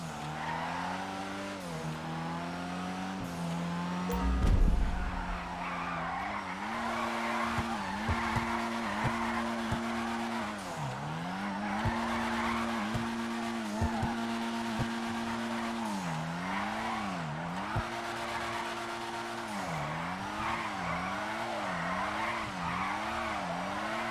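A tuner car drifts in GTA 5 with a steady engine drone and long tire squeals that rise and fall as it slides through repeated turns, loud and continuous with no talk.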